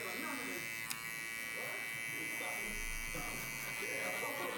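Electric hair clipper buzzing steadily while cutting a bald fade at a barbershop, a constant close drone running underneath someone talking.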